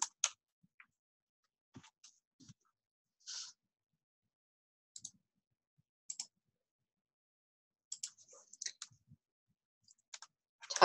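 Sparse clicks of a computer keyboard being typed on in a quiet room, short bursts of keystrokes separated by pauses.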